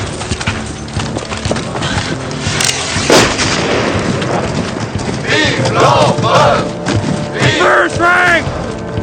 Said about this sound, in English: Boys, let's load up and do some shooting.